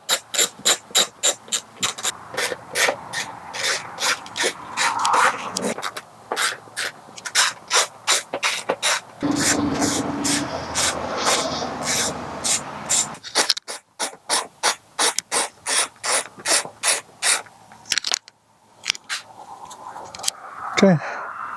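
A hand ratchet backs out the air filter screws on an R6 motorcycle. It gives repeated bursts of sharp, rapid clicking, close up, broken by short pauses between strokes and screws.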